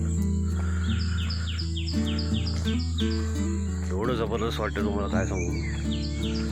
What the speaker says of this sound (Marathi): या पक्ष्यांचा किलबिलाट आहे.